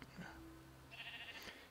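A sheep bleats in the video game Minecraft, a short wavering bleat over a faint background, with a person talking quietly.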